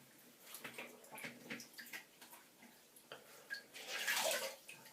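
Water splashes and drips in quick, irregular bursts as a face is wetted before shaving, with a louder rush of running water near the end, all fairly soft and close.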